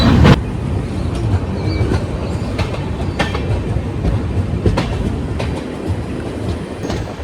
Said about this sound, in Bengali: এই যে এই ট্রেনটা যে জায়গার উপর দিয়ে যাচ্ছে